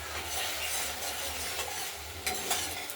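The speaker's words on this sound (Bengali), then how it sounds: "মশলাটা দিয়ে এটা কষানো হচ্ছে" Spice paste sautéing in a pan for a katla fish curry with potato, beans, tomato and bori, a continuous sizzle with a spoon scraping and stirring through it, close and fairly loud.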